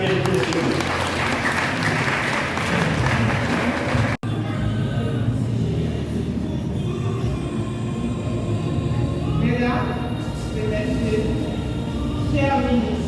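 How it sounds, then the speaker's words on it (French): A congregation at a worship service applauds in a steady, loud patter for several seconds, then the clapping drops away to a quieter room with a voice speaking over faint background sound. "Applaudissez Jacques"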